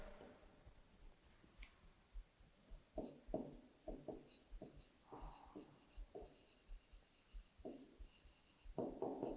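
Chalk or marker writes a four-digit number on a classroom board, a series of short scratchy strokes and taps in irregular bursts, close and fairly quiet, with no talking over them.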